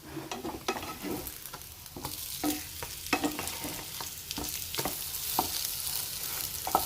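Bread slices frying in coconut oil and ghee in a pan: a continuous close sizzle broken by repeated light taps and scrapes as the slices are moved and flipped.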